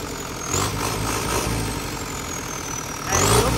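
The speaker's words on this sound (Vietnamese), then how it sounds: "Máy nó êm như thế." A Yuchai 4108 diesel engine runs steadily at idle, a loud close rumble with a faint whine sweeping through it and a slight rise in intensity near the end.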